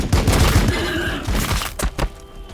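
Units firing on Overwatch in the strategy game Warhammer 40,000: Battlesector, a burst of thuds and rapid gunfire volleys, loud and close, tapering into a few scattered impacts.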